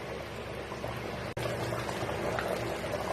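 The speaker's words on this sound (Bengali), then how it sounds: "এই যে গ্রেভি ফুটে উঠেছে" Fish curry gravy with milk comes to a boil in a pot, a soft low bubbling and simmering burble heard continuously at close range with one brief dropout.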